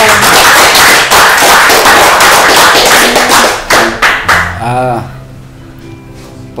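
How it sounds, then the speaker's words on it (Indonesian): Audience applause after a dialogue with a military regional commander about a feature film, dense, steady clapping for about four seconds that thins into scattered claps and fades under a low hum. "Tepuk tangan dulu dong."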